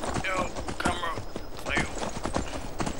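Horse hooves in the video game Skyrim, a quick run of clip-clop hoofbeats close by, with a voice talking over them.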